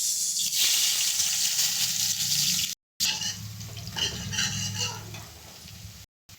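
Chopped onions dropped into hot oil in a pan for dhaba style chicken masala, a strong crackling sizzle that starts loud, dips, then returns with sputtering pops, cut by two brief silences.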